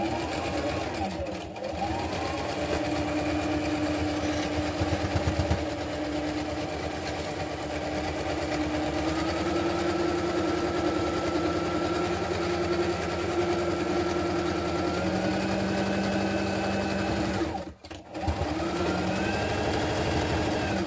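A home sewing machine runs steadily, stitching around a DIY surgical mask with bias tape, a continuous mechanical whir with a brief pause near the end; close and loud throughout.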